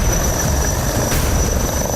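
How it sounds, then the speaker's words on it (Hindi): An Indian-built HAL Light Utility Helicopter flies with a steady, dense rotor and turbine roar that holds unchanged throughout, with no voices over it. "अपने स्वदेशी हेलीकॉप्टर लाइट यूटिलिटी हेलीकॉप्टर"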